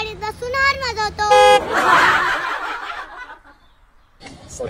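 A car horn gives several short toots in quick succession, followed by a burst of noise and light laughter as people talk nearby.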